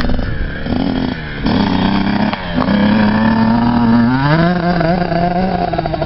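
Motocross motorcycle ridden at Budds Creek track, engine loud and close, revving through gear changes with a brief drop, then climbing steadily in third gear.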